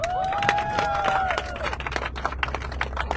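A studio audience breaks into applause, a dense run of claps starting together and thinning out over a few seconds, close, with a faint tonal sound at the start.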